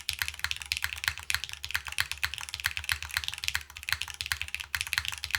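Fast typing on an Etar87 mechanical keyboard, including its spacebar, gives dense, crisp key clacks in an uneven, rapid patter with a low resonant thump under the strokes. The sound is close and fairly soft, with no voices.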